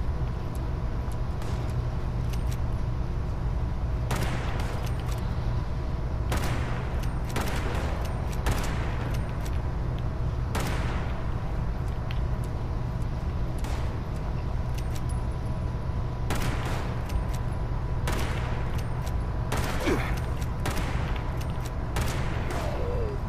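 Gunfire in Fallout 76 during a prison event: repeated sharp shots and short bursts spread across the clip, over a steady low rumble of game ambience, with no talking.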